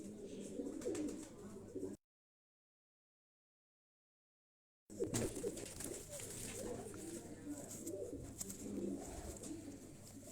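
Pigeons coo with a low, steady rhythm, likely a prized high-flying female pigeon of the Asil breed kept by a Quetta fancier. The cooing is close and moderately loud and breaks off into a few seconds of silence.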